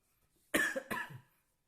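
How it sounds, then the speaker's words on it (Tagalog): Two quick, harsh coughs in close succession, nearby and clear against a silent background. "Ngayon inuubo pa ako."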